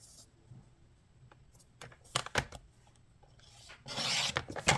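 Cardstock being trimmed for a handmade triangle Christmas card, with a few sharp cutting snips followed by a louder rasping slide of the blade through the paper near the end, close and without talk.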